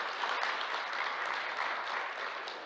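Audience applause at a Korean data industry promotion week event, a dense steady wash of many hands clapping that carries on throughout and tapers slightly at the end, with no talk over it.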